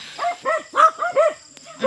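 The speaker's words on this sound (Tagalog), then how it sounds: "Diba maraming aso guys." Several dogs bark in a rapid run of five or six sharp, close barks at dusk outside a rural house, ending with a short pause and one more bark.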